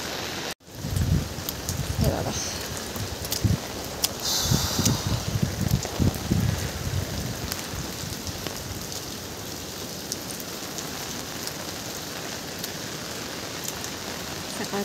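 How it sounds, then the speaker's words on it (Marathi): Heavy early-morning rain around half past six pours in a dense, steady hiss with scattered drops and splashes. Someone briefly speaks near the start, and faint wind noise buzzes on the microphone. "तर भरपूर असा पाऊस येतोय"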